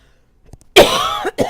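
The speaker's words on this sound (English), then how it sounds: "I am so sorry for the coughing." One person coughs loudly and close: a hard, harsh burst, then a second shorter cough, with no talk.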